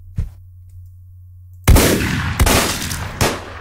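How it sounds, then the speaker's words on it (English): A combat shotgun in Deadbolt fires a few heavy booming blasts after a short near-silent hum, the first shot loudest and followed by two more spaced blasts with fading tails. "This combat shotgun makes everything so much easier"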